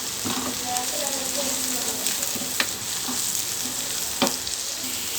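Food sautéing in a pan for tomato thokku makes a steady moderate sizzle with occasional clicks and light scraping of a spatula, continuous and close, with no one speaking.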